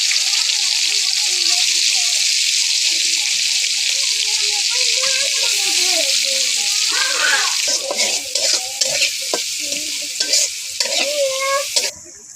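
Onions frying in leftover fish-frying oil in a home kitchen, a loud continuous sizzle with stirring scrapes throughout, while a voice talks over it, ending abruptly near twelve seconds.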